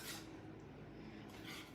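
A whisk scrapes and stirs thick lemon meringue pie filling boiling in a pot, a quiet, continuous clatter of metal against the pan, close but faint, with no talking.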